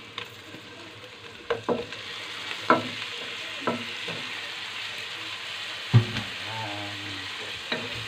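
Shrimp fries with hot chili and oyster sauce in a sizzling pan. A steady crackling hiss runs underneath, and a utensil scrapes and clacks against the pan several times.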